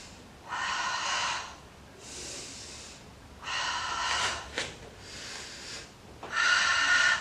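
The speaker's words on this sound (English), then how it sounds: "Inhale up and exhale down." Heavy breaths during an aerial fitness conditioning exercise, five long airy inhales and exhales in a steady rhythm, close and fairly loud, with a brief sharper snort in the middle.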